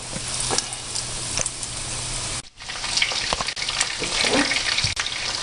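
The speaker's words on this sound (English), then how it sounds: "You can hear the sizzle." Continuous loud sizzling and crackling of chicken cutlets frying in hot oil, close up, with a brief dip in the middle and occasional clatter.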